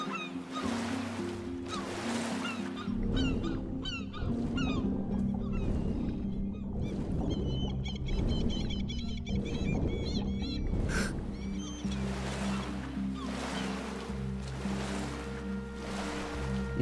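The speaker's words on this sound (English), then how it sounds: "Seagulls is a little loud." Seabirds call repeatedly over a constant ocean surf wash in the survival video game Stranded Deep, the cries loud and frequent across the whole stretch.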